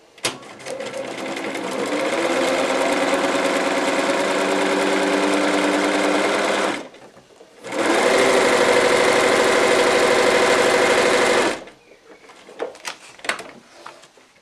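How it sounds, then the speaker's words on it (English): A sewing machine stitching through fabric on a paper foundation for quilt piecing, running loud and steady for about seven seconds, pausing briefly, running again, then stopping into faint handling clicks. "Remember, we always sew on the printed side."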